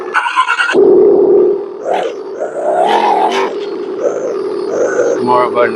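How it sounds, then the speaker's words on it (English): An RC engine sound module plays an aggressive race car engine: a loud, raspy, revving roar that climbs and falls in pitch through several throttle blips, with a harsh burst at the start. "It's more of an aggressive race car."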